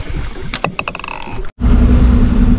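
A fishing boat running at about 26 knots off the Whitsundays on the Great Barrier Reef gives a loud, steady rushing roar of engine and water with wind. The noise cuts out for a moment partway through, then resumes.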